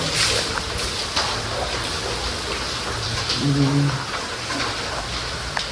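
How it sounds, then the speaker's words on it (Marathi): Steady rain pours down in a continuous wash of noise, with a brief low hum rising briefly partway through and no voices. "परत पाऊस झालेला आहे. चालू झालाय परत."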